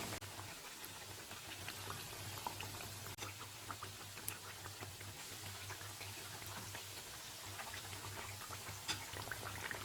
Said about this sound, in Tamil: இப்போ இந்த பூரியெல்லாம் எடுத்து பொரிச்சு எடுத்துடலாம்